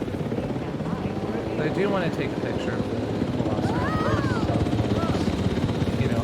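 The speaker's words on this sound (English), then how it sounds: "I almost crashed the helicopter there." A helicopter in the video game Jurassic World Evolution 3 drones with a steady rotor roar throughout, loud and continuous beneath someone talking, with faint creature calls rising over it.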